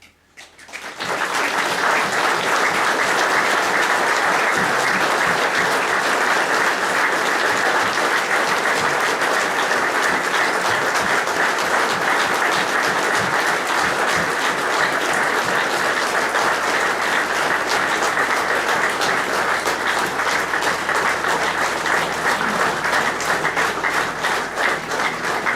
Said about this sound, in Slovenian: Zato mu prosim, vsi tukaj navzoči, namenimo poslednji aplavz